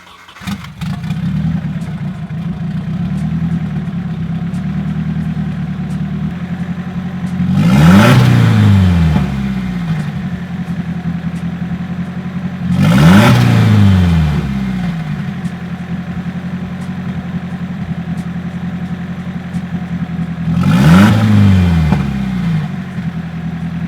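A turbocharged Nissan 240SX starts and settles into a steady idle, close up and loud. Three separate revs follow at intervals, each rising sharply and falling back to idle.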